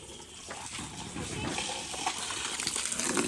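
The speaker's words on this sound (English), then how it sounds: "Just gonna trickle water from my hand on here" Water trickles from a cupped hand onto the ground beside a garden hose, making a steady, soft splashing patter at close range that grows slightly louder toward the end, with no voices over it.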